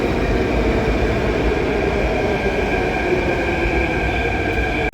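A Delhi Metro train rumbles steadily at a station platform, with a loud, continuous roar and faint high whining tones throughout.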